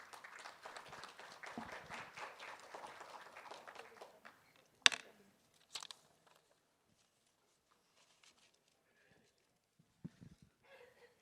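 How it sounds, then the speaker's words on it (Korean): An audience at a Pyeongchang peace forum session claps to welcome a speaker, dense applause for about four seconds that quickly thins to a few scattered claps and rustles. "여러분 큰 박수로 환영해 주십시오."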